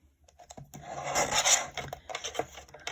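Paper being trimmed for a handmade card: a short close run of scratchy cutting and rubbing, with a few light taps before and after.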